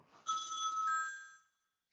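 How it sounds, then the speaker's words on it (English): A phone rings with one bright electronic ringtone burst, clear and fairly close, lasting about a second before cutting off into silence. "my phone's going off"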